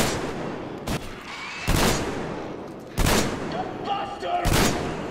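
Four loud, sharp shotgun blasts from Metro Exodus come about a second apart over a noisy background of game ambience.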